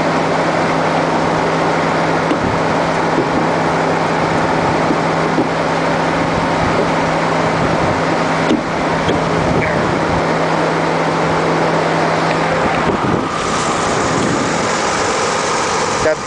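A Cadillac Coupe Deville's 4.5 liter V8 runs at a steady idle, a loud, close, continuous low rumble with a slight shift in tone near the end.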